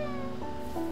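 A cat meows in a video game, one drawn-out, tonal call that shifts pitch near the middle, heard close and fairly loud over a steady game music bed.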